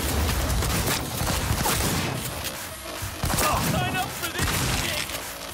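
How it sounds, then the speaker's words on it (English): Shotgun fire in Cyberpunk 2077 sounds as loud, repeated blasts mixed with crashes and thuds in a dense, chaotic firefight, with brief speech-like sounds among the shots. "Shotgun on these guys."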